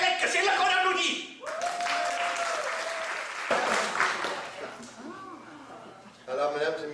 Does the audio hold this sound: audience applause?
yes